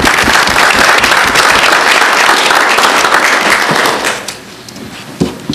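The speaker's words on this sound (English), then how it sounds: "give you a round of applause" Sustained crowd applause at a city council meeting honoring a retiring reverend, dense steady clapping filling the room for about four seconds before thinning to a few scattered claps near the end.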